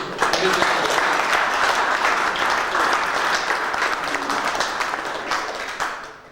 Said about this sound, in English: I think a round of applause in his absence just for him.